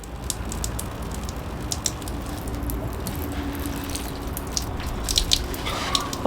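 Water dripping and trickling out of a hole drilled in a stainless steel boat hull, a close stream of irregular wet ticks and patters over a steady watery rush, growing a little busier toward the end.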